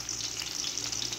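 Garlic frying in a pan for a pochero stew gives a steady, close sizzle with a bright hiss and faint crackles, heard alone with no talking.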